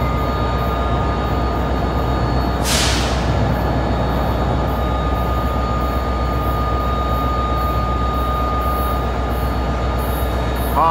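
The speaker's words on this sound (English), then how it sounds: "Train is coming." A train arriving at Secaucus Junction rumbles loudly and steadily close by, a constant heavy roar of rolling wheels with a brief hissing burst partway through.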